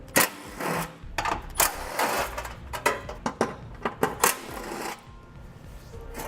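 10mm bolts come off the heat shields under a 2017 Subaru: a power tool runs in repeated short loud bursts, rattling and whirring close by, then a quieter stretch.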